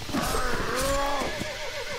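A horse in the Mount & Blade Warband video game lets out a loud, wavering whinny after being stabbed, one continuous neigh lasting about two seconds with no talk over it.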